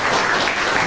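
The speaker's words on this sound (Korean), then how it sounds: "박수로 격려해 주십니다." Steady applause fills a hall from an audience at a formal launch ceremony, dense and even for about a second.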